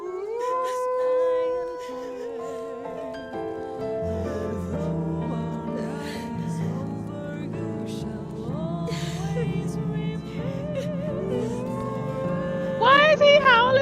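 Drawn-out howling in the video game Final Fantasy 16: wavering, sustained tones that rise and bend, layered over a dense musical bed for the whole stretch, with a sharper burst at the end.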